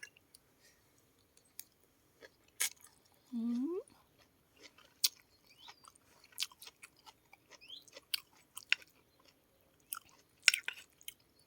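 Someone eats a Thai pounded asparagus salad with boiled eggs, making close, crisp crunches and wet chewing clicks in an otherwise quiet room, broken once by a short hummed 'mm' of approval.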